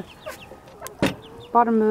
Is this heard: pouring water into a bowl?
no